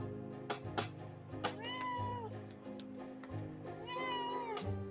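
A cat meows twice, two long rising-and-falling cries a couple of seconds apart, close and clear over a steady low hum.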